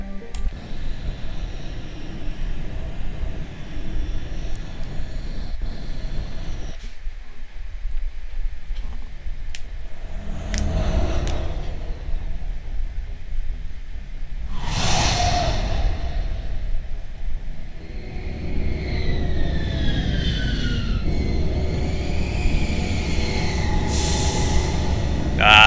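A spaceship sets down and docks on the planet Feros in the video game Mass Effect, with loud, sustained engine roar, rising and falling whooshing sweeps and rumbling thrust that swells and fades several times with no talking.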